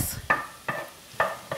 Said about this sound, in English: So we just want to simmer this